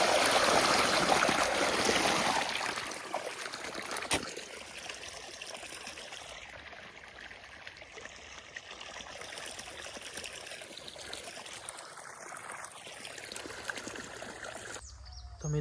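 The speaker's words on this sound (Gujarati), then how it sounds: "અહીંયા હું પાણી વાળી રહ્યો છું" Water runs through an irrigation channel in an okra field outdoors, a continuous rushing, trickling flow that is louder at first and then settles into a steadier stream, with no talking.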